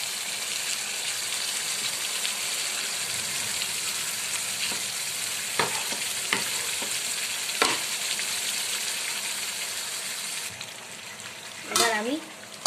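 Pointed gourd (parval) already fried, stirred into a mustard-kasundi masala: steady broadband sizzle and frying hiss throughout, with a few sharp spatula scrapes and clinks against the pan and a louder clatter near the end.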